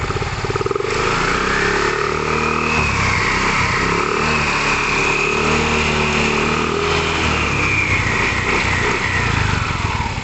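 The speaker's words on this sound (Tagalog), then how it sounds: "Hindi natin isasagad kasi kakayog-kayog yung motor eh." A Yamaha Mio i 125 CVT scooter fitted with 14g flyballs revs continuously and loudly up close, its engine droning and rising in pitch with no voices over it.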